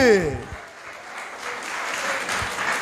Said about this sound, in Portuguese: pode aplaudir o Senhor Jesus mais forte